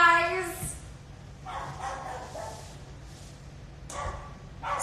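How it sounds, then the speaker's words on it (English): A few short dog barks and yips, moderately close, mixed with a voice talking at the start. "My dogs are barking."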